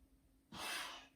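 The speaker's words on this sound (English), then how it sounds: "Take a deep breath in" A single deep, breathy inhalation drawn in sharply during a bodyweight strength-and-conditioning exercise for rugby, close and fairly loud, lasting about half a second after a quiet pause.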